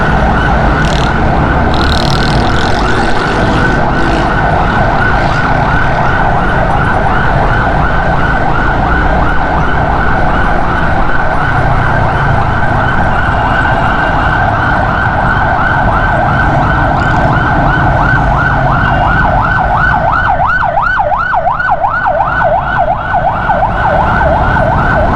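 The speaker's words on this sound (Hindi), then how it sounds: "पीछे एम्बुलेंस आ रही है" An ambulance siren wails continuously from behind in city traffic, a loud repeating rise-and-fall tone that stays close throughout, with its rapid warble sharpening near the end over steady road noise.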